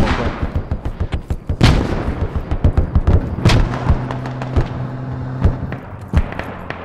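Rapid gunfire and heavy explosions from the tactical shooter video game Squad, sharp close bursts and booms in quick irregular succession with a deeper blast near the middle; no talking.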